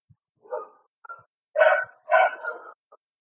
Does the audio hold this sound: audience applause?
no